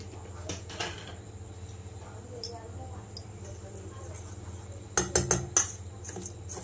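Spoon stirring semolina and flour batter with salt for malpua in a bowl, soft scraping under a steady hum, then a quick cluster of sharp clinks against the bowl near the end, while a voice speaks.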